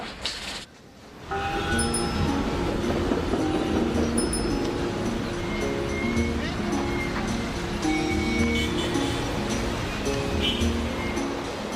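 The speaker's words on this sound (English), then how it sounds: "Why a slow train to Wuchao?" A slow passenger train rolls along rails in China, heading for Wuchao County south of Beijing, its steady rumble and rattle continuous and loud, with faint squeals and knocks throughout.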